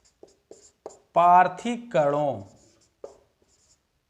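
Chalk taps and scratches on a classroom board during a physics lesson come as a few soft, brief ticks, with a teacher speaking over them in the middle.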